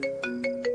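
A phone ringtone chimes four times in a regular electronic melody, ringing on unanswered, close and clear with no voices over it.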